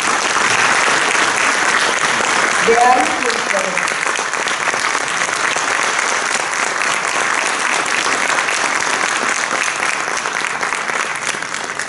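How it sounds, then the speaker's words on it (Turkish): Sustained audience applause for a choir conductor at a choir concert, dense and loud throughout, with a brief voice speaking over it early on. "Alkışlarınızla."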